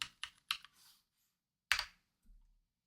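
A few sharp, close computer keyboard keystrokes click out in a quick burst, then a pause, another firm keypress and a soft final tap in a quiet room.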